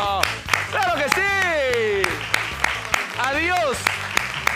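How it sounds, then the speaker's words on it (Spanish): Studio applause on a television sports show unveiling a new set, clapping running steadily under a loud, excited voice with rising and falling shouts, plus a thumping music beat underneath. "¡El aplauso!"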